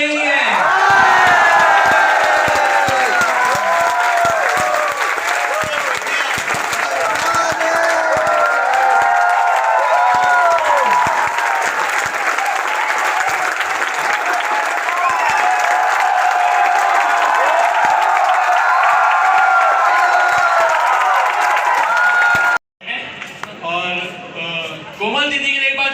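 College audience at a shayari event claps, cheers and whoops loudly and continuously for a long stretch, then a voice speaks over scattered shouts as the noise breaks off.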